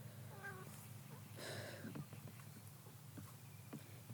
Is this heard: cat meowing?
yes